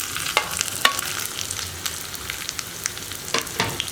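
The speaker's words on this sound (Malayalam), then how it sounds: "ഈ ഉള്ളിയുടെ കളറൊന്ന് ചേഞ്ച് ആയി വരുന്നത് വരെ ഇളക്കി കൊടുക്കുക." Sliced onions frying in a pan for a coconut-free tomato theeyal curry, with a constant sizzle and frequent sharp scrapes and taps as they are stirred.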